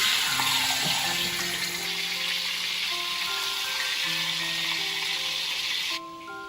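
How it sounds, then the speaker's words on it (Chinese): Marinated chicken frying skin-side down in a hot oiled pan gives a steady, moderately quiet sizzle that drops off abruptly near the end, with faint tonal hum behind it. "接着把腌好的鸡放进来煎，鸡皮先煎。"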